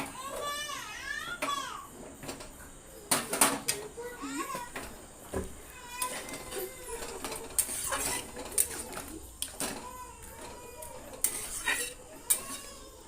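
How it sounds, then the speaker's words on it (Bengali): A spoon clatters and scrapes around a pan of bottle gourd and egg curry, with irregular metallic knocks and stirring throughout. Voices, including a child's, are heard in the background. "একটু ভালো করে নেড়ে নিই"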